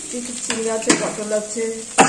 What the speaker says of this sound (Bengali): আলু চিচিঙ্গে পটল দিয়ে ভাজা রয়েছে